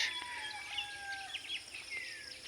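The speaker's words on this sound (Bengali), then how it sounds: "কিচিরমিচির পাখির শব্দ" Birds chirping in a quiet village at sunrise, a few thin close whistled calls and twitters, some sliding downward, over a faint hushed background.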